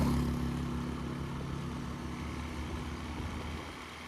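A motorcycle cruises along a highway with a low, steady engine hum and road rumble, fairly quiet and continuous with a faint whine, no voices over it.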